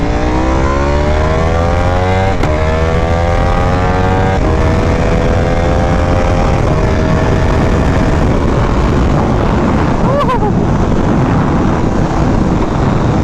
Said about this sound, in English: now this bike is like obnoxiously loud